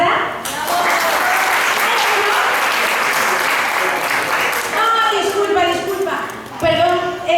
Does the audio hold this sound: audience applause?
yes